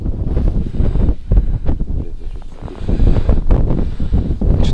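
Wind picks up over a frozen lake during February ice fishing. It buffets the microphone in loud, rumbling gusts that rise and fall unevenly throughout.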